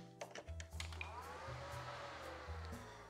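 A Dell Optiplex SX270 desktop computer powers on with a faint fan hum spinning up and a few soft clicks and brief tones, all quiet and nearby.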